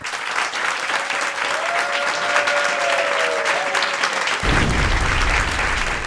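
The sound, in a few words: studio audience applause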